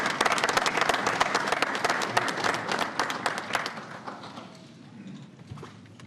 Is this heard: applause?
yes